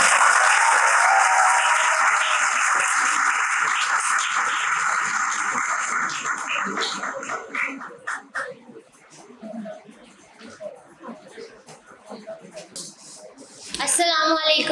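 Dense applause from a university seminar audience greeting the head of the Medical Imaging Technology department onto the stage, loud and steady at first, then thinning into scattered claps and murmurs before a brief burst near the end.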